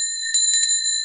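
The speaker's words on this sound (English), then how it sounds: "is the bell on the school in the bay, ringing the children in from their play." A bright bell rings with clear sustained metallic tones, struck a few times in quick succession and left to resonate alone.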